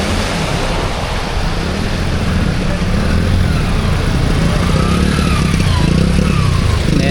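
Motorbikes ride through a waterlogged road during heavy rain, their engines droning under a constant loud wash of water and splashing.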